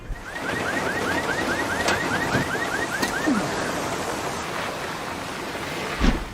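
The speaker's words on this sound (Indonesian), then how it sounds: "Setelah menyucuk pria ini, Lori pun mengambil kunci mobil milik Chris dan menyalakan alarmnya agar para pengendara mengetahui keberadaan mereka." A car alarm chirps in rapid, repeating electronic warbles for a few seconds over a steady rushing background, then stops.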